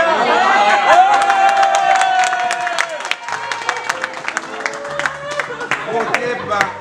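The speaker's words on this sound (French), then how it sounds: "Acclamation." Crowd at a Rotary club presidential handover ceremony in Ndjindji cheering and clapping loudly and continuously, with whoops and voices mixed through the applause.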